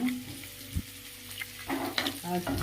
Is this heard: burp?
no